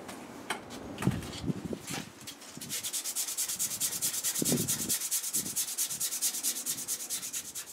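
Close, quiet scraping of sandpaper on a wooden cup carved from a branch: a few scattered rubs and knocks at first, then a fast, steady back-and-forth sanding rhythm.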